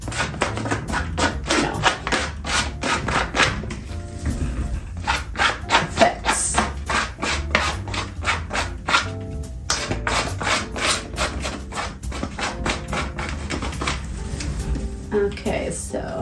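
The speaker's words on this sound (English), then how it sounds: "right now I'm just doing some scratches with this, which is nice" A tool scratches marks into paint on an abstract painting, giving quick repeated rasping strokes in a steady rhythm, close and moderately loud, with a few brief pauses.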